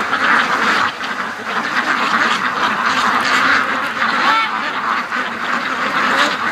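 A flock of ducks quacking continuously and loudly at close range, overlapping calls filling the whole stretch as they are let out for half a day.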